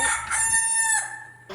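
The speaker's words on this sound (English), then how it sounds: "He's a cowboy rooster." A backyard rooster with feathered legs crows a single loud, close cock-a-doodle-doo, bright and strained, lasting about a second before cutting off.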